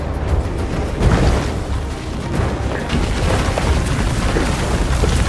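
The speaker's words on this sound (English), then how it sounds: "A lot of explosions." Repeated heavy booms and blasts in the video game Monster Hunter World: Iceborne, several loud explosions layered over a dense rumbling battle din, with no speech.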